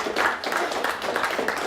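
A small quiz show audience gives both teams a short round of applause, with distinct, rhythmic hand claps close by that come in a quick run lasting under two seconds.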